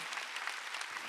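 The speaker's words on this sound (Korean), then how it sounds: "박수야." Church congregation at a Sunday worship service applauding, a dense continuous wash of clapping from many hands filling the room, no voices over it.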